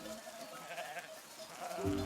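Sheep bleat during a mountain sheep drive at about 2,000 meters elevation, a faint flock with brief calls over a steady outdoor wash and a louder bleat near the end.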